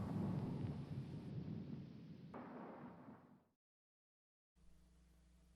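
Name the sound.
thunder sound effect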